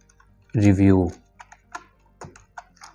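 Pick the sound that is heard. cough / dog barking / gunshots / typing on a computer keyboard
typing on a computer keyboard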